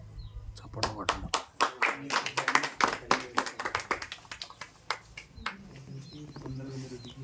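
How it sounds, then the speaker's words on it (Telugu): A group of people claps in quick, uneven bursts of sharp hand claps that rise to a dense patter and then thin out, with a brief voice near the end. "చప్పట్లు కొట్టడం."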